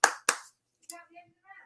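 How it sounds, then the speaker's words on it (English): A couple of sharp hand claps at a home pub quiz, two quick close slaps followed by a brief murmur of voices. "Give him a round of applause."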